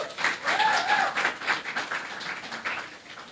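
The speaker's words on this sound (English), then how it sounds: "Give her a round of applause." An audience at a national secondary schools public speaking competition gives a short burst of applause, strongest at the start and then tapering, with a voice faintly audible over the clapping.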